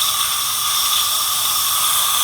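A truck's air compressor unloading in the cab, releasing a steady, continuous hiss of air at full pressure, loud and unbroken with no talk over it.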